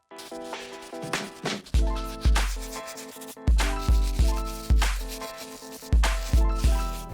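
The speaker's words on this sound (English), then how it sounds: "let's go ahead and start with this stiff bristle brush for the midsoles." A stiff bristle brush scrubs the midsoles of suede Puma sneakers in loud, close, rhythmic strokes, each one a sharp rasp that fades, repeating roughly every half second.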